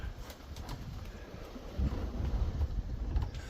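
Low, rumbling wind buffeting the microphone, steady throughout and growing heavier in the second half, with no voices.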